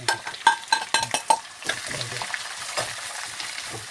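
Ingredients frying in a pan, with a run of sharp stirring scrapes and clinks at first, then a steady sizzle underneath to the end, close and fairly loud.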